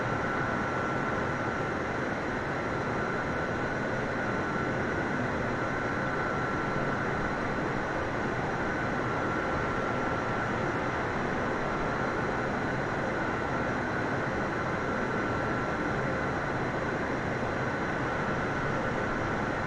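Steady, unbroken drone of DC-3 piston airplane engines in a flight simulator game, a loud continuous roar with a constant tonal hum, no talk over it.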